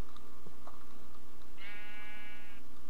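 A sheep in a video game gives one wavering bleat over a steady hum of background game sound and music.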